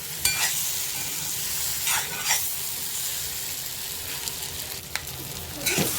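Paneer cubes fry in a pan with oil for restaurant-style paneer tikka masala: a steady close sizzle with occasional scrapes and stirring clinks. No one speaks.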